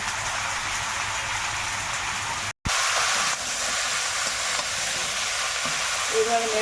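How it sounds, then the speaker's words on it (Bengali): Turmeric, chili powder and salt being stirred and sautéed in a pan for a Sundarban-style curry, a steady broadband sizzle with scraping stirs, briefly cut off once midway, no one talking. "নেড়ে ভালো করে একটু কষিয়ে নেব"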